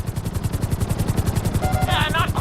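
A helicopter in GTA V thumps along with fast, steady rotor beats under a rumbling engine drone, loud and close, with a brief electronic tone near the end.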